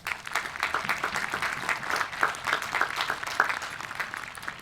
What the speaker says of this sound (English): can we still give them a huge round of applause for their hard work?